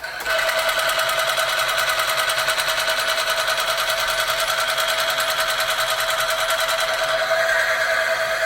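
An electric motor runs under load in a test of Mobil 1 oil with Runwell additive, giving a loud, continuous mechanical whine with a fast, steady rattling pulse throughout.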